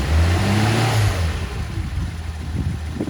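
A Nissan Skyline C110 Kenmeri's warm engine revs up loudly and close, then drops back to a rough, pulsing idle, with no one talking.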